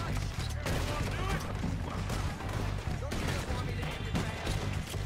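Rapid gunfire from Red Dead Redemption 2 gameplay, dense overlapping shots forming a loud, continuous fusillade with booming low end throughout, alongside game sound effects.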